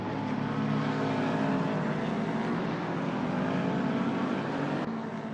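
Toyota GR86 race cars roar past in a continuous, loud, dense engine drone with brief gear-change dips, pounding hard around the circuit during an SRA GR86 Cup race.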